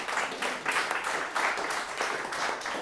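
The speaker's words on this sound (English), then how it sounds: "So if we get a quick round of applause." A quick round of applause from the audience at an employer community event, steady, moderately loud clapping from many hands, continuous through the short moment with no speech over it.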